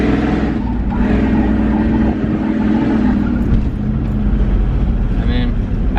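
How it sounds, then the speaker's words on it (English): A pickup truck engine revs hard and steadily as the driver turns sharply to lift a wheel, a loud continuous roar filling the clip with a voice talking over it. "Just turn a little bit the opposite way, and then turn into it, hit the gas."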